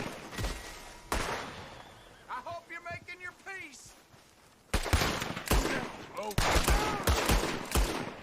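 Gunfire in a Western scene from the video game The Movies, with bursts of sharp shots at the start and end and speech in the quieter middle stretch.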